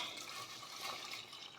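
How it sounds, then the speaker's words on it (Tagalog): Water poured into a cooking pot while making monggo soup, a short continuous splashing gush, close and fairly loud, with no voices. "dagdagan natin siya ng tubig"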